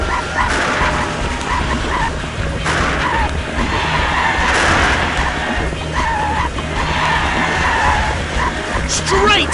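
A robot charges across the arena in the Robot Wars: Arenas of Destruction PC game, with loud skidding and screeching game effects and harsh, yelping bursts, all under a commentator's excited voice.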